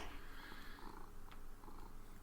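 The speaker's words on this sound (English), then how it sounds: "And he's very much purring." A cat purrs right next to the microphone, a soft, continuous rumbling purr that stays steady throughout with no talk.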